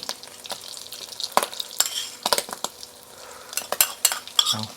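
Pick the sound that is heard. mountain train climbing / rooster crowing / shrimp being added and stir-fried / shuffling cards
shrimp being added and stir-fried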